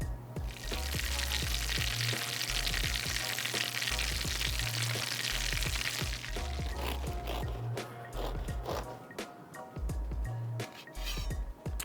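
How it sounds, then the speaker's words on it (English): Cornmeal-crusted rockfish fries in oil heated to 350 degrees with a loud, dense, continuous sizzle, easing slightly partway through as crackles and pops continue, with no talk. "you're gonna wanna heat your oil to at least 350 degrees because the rockfish is such a delicate fish that it's gonna cook really quickly"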